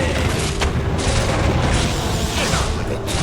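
Heavy boom of a mortar shell exploding in the strategy game Warcraft 3 Reforged, a dense, loud rumbling blast sustained across the whole clip amid other battle noise.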